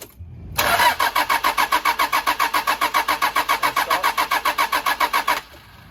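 An engine cranks on the starter without firing, spinning oil through the turbo: a loud, close, rapid rhythmic chug of about twenty-five even beats lasting nearly five seconds, then stopping abruptly.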